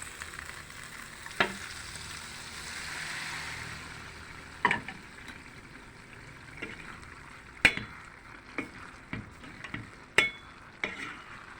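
Oil hits a hot pan of lentil rice with a soft sizzle and frying crackle, dotted with a few sharp clicks and taps from a utensil or lid.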